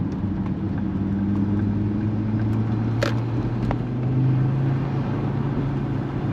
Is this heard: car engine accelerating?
yes